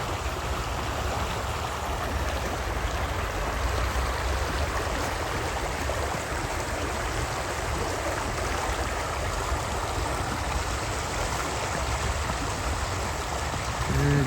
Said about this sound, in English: A little bit of the waterfalls in there.